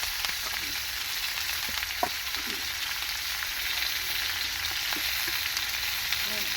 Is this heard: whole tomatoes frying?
yes